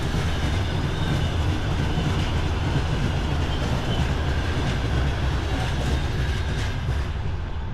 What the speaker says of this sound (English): We got a train driving by.